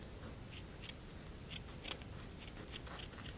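Scissors snipping wax strips for eyebrow waxing, a series of quiet, crisp cuts spaced irregularly against a soft background.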